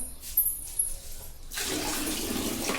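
A kitchen tap turned on to run water for washing a tub full of dishes: quiet at first, then a steady, close rush of water that continues to the end.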